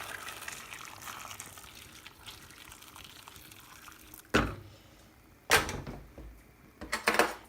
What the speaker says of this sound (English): I'm going to use boiling water to cover over all the vegetables